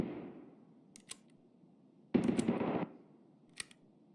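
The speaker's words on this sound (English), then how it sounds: "Somebody's shooting. Yeah, dude, I fucking hear that. It sounds like a big gun too." Distant gunfire from a big gun in Escape from Tarkov PVE, heard as a few sharp cracks spread apart, with one louder rough burst in the middle of the stretch, all faint and far off.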